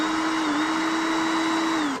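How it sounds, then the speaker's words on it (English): A handheld power drill spinning loosened lug nuts off a car wheel during an at-home tire rotation gives a steady, loud whine that holds for about two seconds before it starts to slow at the end. "I'm going to get my handheld drill and just take them off real fast"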